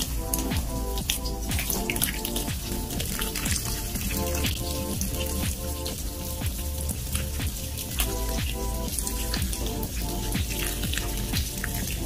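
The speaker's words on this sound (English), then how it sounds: "You guys see how the water is dripping right there?" Water trickles and drips steadily through fast-draining aroid potting soil mix, a continuous patter of small droplets heard close up without any voices.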